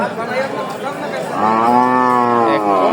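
A cow or bull at the Bormi cattle market during Qurbani sale season gives one long, loud, close moo rising in the second half, over a low murmur of crowd noise.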